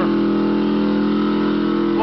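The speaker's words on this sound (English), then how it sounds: "Flowmaster dual exhaust" A 1976 Chevy pickup fitted with one-chamber Flowmaster dual exhaust rumbles loud and steady up close, a deep continuous engine drone with no break.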